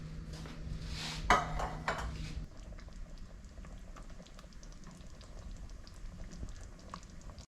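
Pots, pans and dishes get washed up after cooking at a solo truck camper campsite, with a burst of metal clatter and clinks early on, then quieter scattered clanks and rinsing patter.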